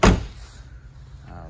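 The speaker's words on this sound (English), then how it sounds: "I'll just also kind of demonstrate the door closing and all that stuff." The door of a 2006 Ford Escape XLT AWD shuts with a single sharp, close thud at the start, followed by a faint low hum.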